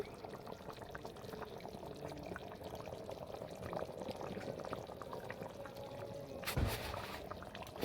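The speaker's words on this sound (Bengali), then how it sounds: "ঘি দিয়া দেব" Ghee going into a hot pan while soybean curry cooks, giving a steady low sizzle and bubbling throughout, with a brief louder splash-like burst near the end.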